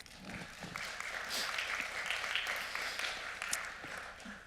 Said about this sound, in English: maybe a welcome applause